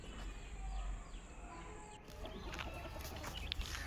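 Chickens and a rooster clucking on a Tamil farm around feeding time, short close clucks and calls over steady outdoor noise, no talking.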